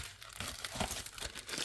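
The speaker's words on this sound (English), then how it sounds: "So I'm just going to take it out so everyone can see the gel plate." A gel plate is pulled out of crinkly plastic packaging, a close, loud run of crackling and crumpling with brief tearing bursts and no voices.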